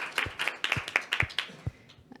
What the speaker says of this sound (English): Shall we also give a clap?